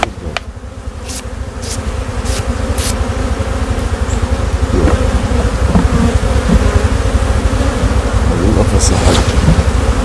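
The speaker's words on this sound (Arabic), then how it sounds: "شوفوا يا جماعة من داخل مملكة النحل" Bees swarm inside a beehive box, a loud dense continuous buzzing heard up close, with a few brief clicks and knocks near the start.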